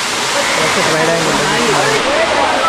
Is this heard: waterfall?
yes